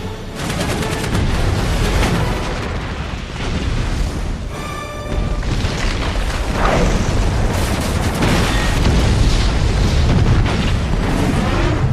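A house blows up in the James Bond film Skyfall, a loud sustained barrage of booming blasts and crackling detonations with a brief ringing metallic pause midway, then more rumbling explosions.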